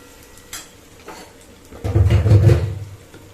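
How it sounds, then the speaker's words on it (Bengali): Onions being fried in a pan for chicken kosha: a soft sizzle with scattered utensil clicks and scraping, swelling into a louder stirring burst before fading back, with no talking. "এই যে পেঁয়াজটা ভেজে নিচ্ছি"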